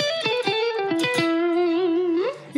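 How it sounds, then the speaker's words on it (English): A distorted electric guitar plays a short melodic phrase, bending into a sustained, gritty note that rings out loud and alone. "right now I'm using a lot of distortion"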